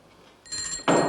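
A single bell rung to summon a butler, a short bright ring that starts softly and then swells louder, heard alone and close for about a second.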